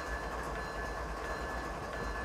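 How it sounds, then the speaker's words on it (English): In Train Simulator 2017, a Norfolk Southern ES44AC locomotive on a coal district run gives off a steady, even rumble with a faint rhythmic clatter after the dynamic brake is released. "Let's go ahead and take the dynamic brake off."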